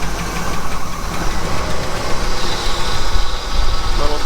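A Trans Am engine runs loud and rough at close range, with a dense, continuous rumble and knocking texture across the whole stretch.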